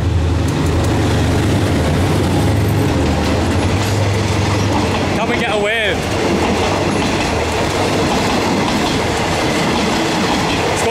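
A third-class passenger train in southern Thailand roars past very close, loud steady rumbling and rattling wheels with a brief horn blast midway; someone speaks over the noise.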